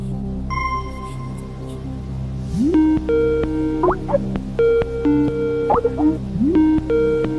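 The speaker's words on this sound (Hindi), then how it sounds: "कंप्यूटर महाशय, प्रदीप सर को फोन लगाया जाए" On a television quiz show, a phone call goes out: a series of electronic dial tones and musical blips, then rhythmic ringing tones with swooping chimes, heard clearly with no one talking.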